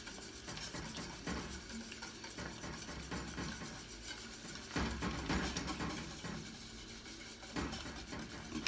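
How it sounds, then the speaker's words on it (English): Polenta is whisked slowly into a pot, giving soft scraping and stirring strokes with a few louder swishes and clinks against the pot, fairly quiet and close, with no voice. "So very slowly we put that in,"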